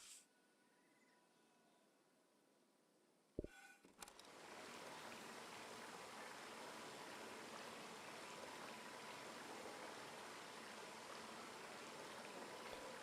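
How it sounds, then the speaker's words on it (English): Running stream water from the game Season, a steady soft rushing flow that starts abruptly after a brief click and continues evenly and faintly, alone with no talk. "that water running is so damn soothing"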